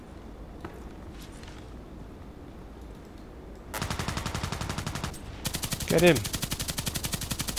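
Rapid bursts of automatic gunfire in a sniper-focused shooter video game, loud and close, starting midway with a sustained rattling volley, a brief pause, then another long burst; a voice shouts over the shooting.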